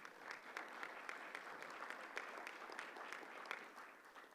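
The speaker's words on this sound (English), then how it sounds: "Let's give this gentleman a big round of applause" An audience at the 2024 Minnesota Pork Congress applauds after a gentleman is asked to stand, a steady wash of many hands clapping, faint and distant, lasting several seconds.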